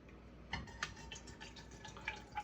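Liquid poured from a bottle into a container, a faint close trickle with small drips and splashes, quiet and without talk.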